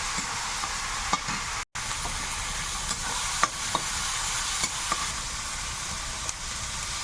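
Tomato paste frying in a pan with ginger, garlic and onion, a steady close sizzle and hiss running throughout with small stirring clicks and scrapes and one brief dropout.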